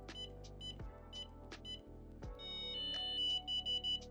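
A WELOCK smart lock gives short electronic beeps and a sustained tone during code setup, heard close and clear over a steady low hum, with several brief chirps in the second half.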